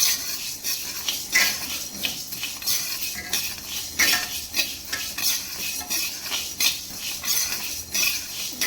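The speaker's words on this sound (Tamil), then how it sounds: "இது நல்லா வறுத்து எடுத்துக்கலாம் கொள்ளை கருக விடக்கூடாது" Horse gram dry-roasting in a pan, stirred constantly with a metal spatula. Rhythmic scraping and light clinking of seeds against metal sit over a faint sizzle, close and steady, with no one speaking.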